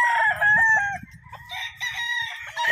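Roosters crow loudly and repeatedly, their long, strained calls overlapping against low clucking and rustling underneath.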